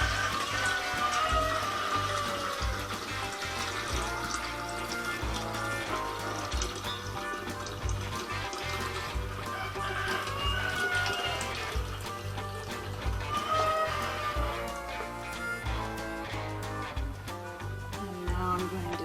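Sweetened tea pours steadily into a 2.5-gallon kombucha container at home, a continuous splashing, gurgling stream of liquid that runs unbroken at moderate volume.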